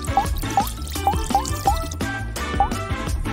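Water is poured onto a sheet-decorated cake topped with piles of colorful candy, giving a series of close, bright gurgling drips and splashes in a rough repeating rhythm, with music underneath.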